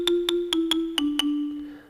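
Roland MC-303 marimba preset set to a very short envelope attack, played as six quick separate notes in a steady run, each a crisp mallet-like tap with a brief ringing tail, clear and alone.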